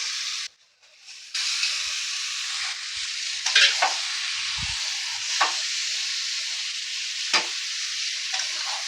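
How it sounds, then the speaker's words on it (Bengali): Chicken pieces with chopped tomato fry in a pan, giving a steady hissing sizzle broken by several scraping stirs, close up and with no one talking. "এবার চিকেনটাকে ভালো করে কষাতে হবে।"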